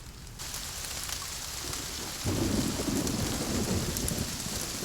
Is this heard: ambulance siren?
no